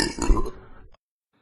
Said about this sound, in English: This is sort of like what happens with a burp